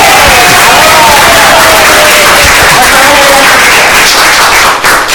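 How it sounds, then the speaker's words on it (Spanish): Conference audience at a lecture hall applauding loudly and continuously, a dense wash of clapping and crowd noise with a faint tonal voice-like line drifting underneath. "por favor, ayúdenme a recibir un aplauso"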